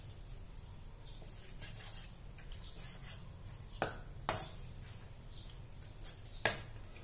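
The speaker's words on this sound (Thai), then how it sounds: "แล้วเราจะหั่นเป็นชิ้นยาวๆค่ะ" A knife slices skinless chicken meat into long pieces on a cutting board, with a few sharp, distinct taps against the board amid quiet kitchen background.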